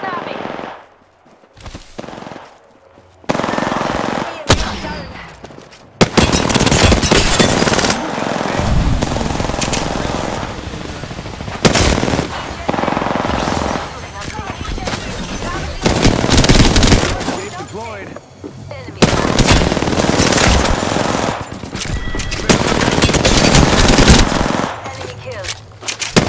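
Rapid automatic gunfire from the video game Apex Legends bursts loudly and almost continuously, broken by brief pauses, with game voice lines and a player's talk mixed in.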